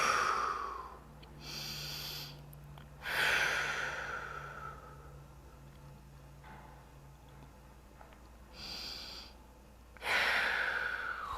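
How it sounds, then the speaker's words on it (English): Slow, deep breaths drawn in and pushed out during a runners' cool-down hip stretch, each long exhale rising loud and close, then a quieter pause, repeating about three times with no talking. "Big breath in and out as we go."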